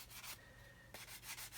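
Rubbing scrape of sandpaper along a soft plastic seam on an Airfix 1/72 Vulcan model kit, in short repeated strokes with a brief pause in the middle, close and fairly quiet.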